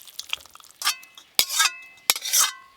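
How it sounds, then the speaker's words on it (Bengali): Egg curry being poured and scraped out of a pan, with close metal clinks and scraping strokes in three short bursts, ringing briefly against quiet. "ডিমের কারি হয়ে গেল। এবার ঢেলে নেব।"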